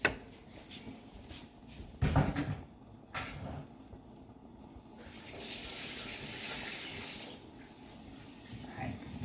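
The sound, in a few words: water poured out of a pot of noodles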